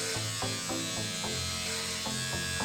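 Electric hair clippers buzz steadily and close by while cutting hair at home, a continuous motor drone with slight changes in pitch as the blade moves through the hair.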